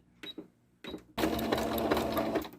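A home sewing machine runs a straight stitch for quilting: two short bursts of stitching, then a sustained, rhythmic needle hum up close to the end.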